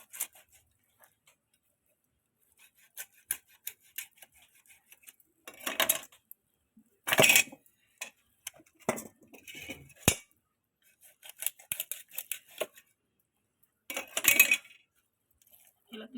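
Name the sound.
knife cutting a fish on a board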